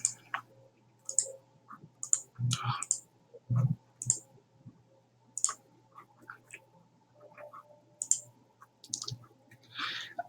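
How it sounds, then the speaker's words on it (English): A computer mouse clicks while someone works through a Twitter page to follow accounts, with sparse sharp clicks spread irregularly and quiet talk in between. "if I wanted to follow people, you just need to click on that follow button."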